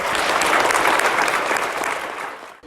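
Audience applause at a school presentation day, steady dense clapping from a full hall that fades near the end and cuts off.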